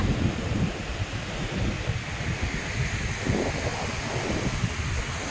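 Ocean waves on Pondicherry beach in India, a steady, loud wash of surf mixed with strong wind buffeting close to the microphone throughout.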